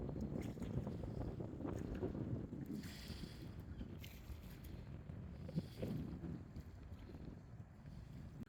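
A ferry crossing water in the Netherlands, carrying cyclists, heard as a low continuous engine rumble and water wash mixed with gusty wind buffeting, steady and moderately quiet.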